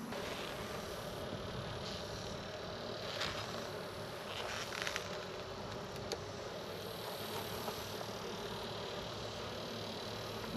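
Swarm of honey bees buzzing, a dense continuous drone that fills the scene steadily at moderate level with no pauses.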